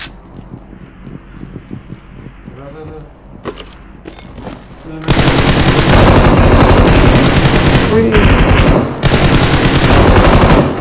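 Quiet voices and clicks give way to loud, sustained bursts of rapid automatic gunfire with brief pauses between volleys, in a mobile shooter video game.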